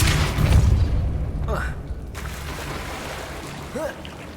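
A Depulso force spell cast in Hogwarts Legacy gives a deep booming whoosh near the start, followed by soft magical swishes and tonal chimes over the game ambience, with a person speaking briefly.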